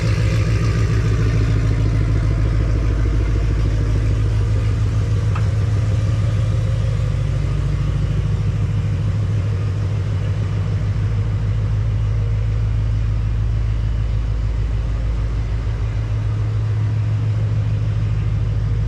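A 2024 Ford Mustang GT V8 fitted with a full aftermarket exhaust idles steadily nearby, a deep, loud, continuous rumble with a slight clatter that holds unchanged throughout.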